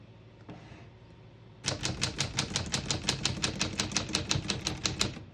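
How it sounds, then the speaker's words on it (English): A manual typewriter's keys strike in a quick, even run of sharp clacks after a quiet start, close and crisp, with no one talking. "As you can see, all the keys type nice and none of them skip or stick."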